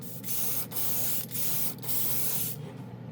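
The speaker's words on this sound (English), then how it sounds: "Now I'm going to go in for the second and final coat." Steady hiss of a spray can applying a chrome-plus varnish top coat in three long passes with brief pauses between, close up and even in loudness, no speech.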